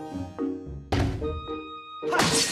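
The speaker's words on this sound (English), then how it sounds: "Do a side slash on that log" A sword side slash striking a log in The Legend of Zelda: Skyward Sword, heard as a few heavy, close thunks with brief bright swooshes between them.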